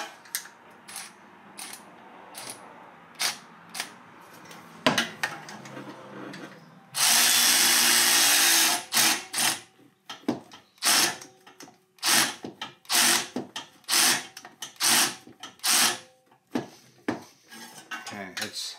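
Bolts on the crankcase of a gas-powered 2008 Club Car DS golf cart being tightened: sharp metallic clicks and clinks of sockets and tools, with a loud two-second whir of a power tool partway through.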